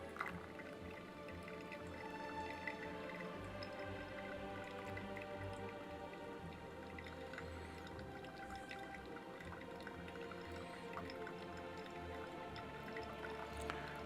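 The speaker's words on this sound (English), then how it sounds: "Slowly pouring." Water poured slowly over coffee grounds in a Melitta Senz V coffee maker, a continuous faint trickle with small drips and gurgles, close and quiet, with no talking.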